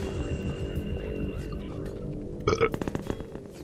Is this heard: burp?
yes